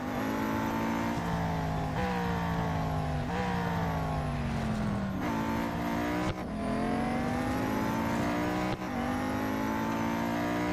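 Race car engine in Real Racing 3 revving hard through repeated gear changes, each upshift dropping the pitch before it climbs again, loud and steady with no talk.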